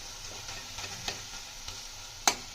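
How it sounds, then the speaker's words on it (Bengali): Leafy greens (saag) with eggplant being stirred in a frying pan, soft sizzling underneath with light scraping stir strokes and a sharp utensil clink near the end. "শাকটা একবার নেড়ে দেবো।"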